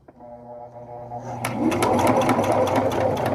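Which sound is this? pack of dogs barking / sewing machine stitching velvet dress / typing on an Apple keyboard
sewing machine stitching velvet dress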